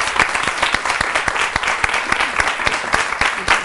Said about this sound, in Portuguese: Nós vamos recebê-la também com a salva de palmas.